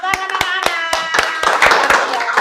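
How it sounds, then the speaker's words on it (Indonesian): Children in an Indonesian classroom clap for a classmate, a run of sharp, fairly close hand claps, evenly spaced at first and then quicker and denser, with some overlapping voices. "Tepuk tangan anak-anak."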